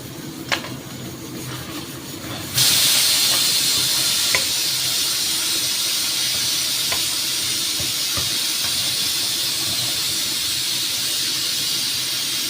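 Mutton pieces stirred and frying in oil in a pan for restaurant-style mutton tarka, a steady close sizzle and hiss that jumps louder partway through, with occasional scrapes and clinks of stirring.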